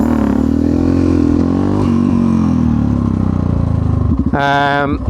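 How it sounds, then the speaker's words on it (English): Yamaha XT660X single-cylinder motorcycle engine held at rising revs with the clutch in, then sharply blipped higher near the end, loud and close and steady throughout. "you're kind of building the RPM up, clutch in, building the RPM and jumping it out"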